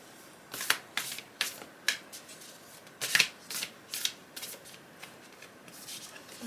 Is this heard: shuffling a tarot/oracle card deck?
yes